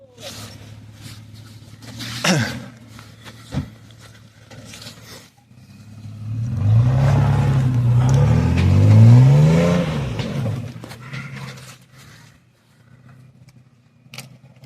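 An off-road car reversing on rough ground with its tyres let down: scattered clunks first, then the engine revs up loudly and strains for several seconds before dropping back to a low idle.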